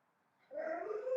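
A dog grumbles nearby, a low drawn-out whining growl that rises suddenly after a moment of silence and holds steady, alone without talk.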